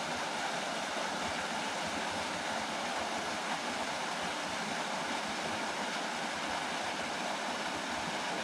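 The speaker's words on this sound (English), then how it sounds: "It's a pretty cool little waterfall, isn't it?" Small waterfall at a remote tidal spot reached by boat, heard as a steady broadband rush of falling water that stays constant and fairly close throughout, with no voices.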